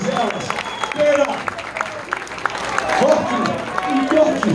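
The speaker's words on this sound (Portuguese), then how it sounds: "Uma salva de palmas aí para os camaradas" Audience applause at a punk rock concert in a club, moderate clapping rising and falling under loud crowd chatter and a voice speaking over it.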